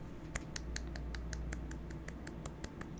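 Small, light hand claps repeat in an even rhythm, about a dozen soft taps in quick succession. A low, steady hum sits underneath, and there is no talking.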